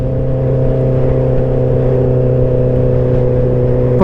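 A motorcycle cruising under throttle gives a loud, close, steady engine drone that holds an even pitch throughout, with no talking.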